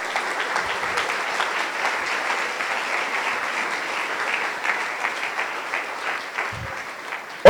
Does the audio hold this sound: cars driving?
no